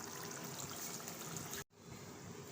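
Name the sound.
water being poured into a cooking pot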